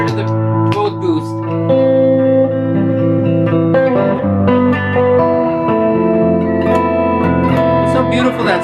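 A handmade SG electric guitar plays through its neck pickup with the boost off, clean, warm sustained chords and single notes ringing close and loud with some effects shimmer.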